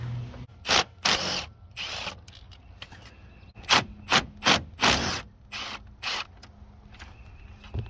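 Power tool ratcheting out 13 millimeter bolts on a diesel fuel system, a series of sharp, loud whirring bursts of varying length separated by short pauses, close up with a low idle hum beneath.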